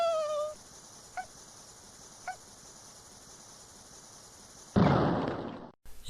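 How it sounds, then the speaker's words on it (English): Dynamite goes off in the Amiga game Worms: The Director's Cut. A short chirpy tone and two faint pops come first, then one loud burst of explosion noise that lasts about a second and cuts off sharply. "You can see the explosion range of the dynamite reaches far and wide"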